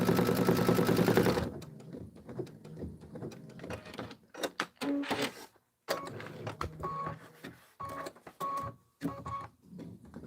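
A computerized embroidery machine stitches out a tiled home-decor design. After a louder opening burst it makes short, stop-start mechanical whirring runs broken by brief pauses, close and moderately quiet.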